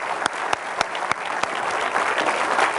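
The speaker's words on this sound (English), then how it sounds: "let's have a big hand for Garrett" An audience at a seminar gives a steady round of applause, dense and fairly loud, with a few sharper claps standing out near the start.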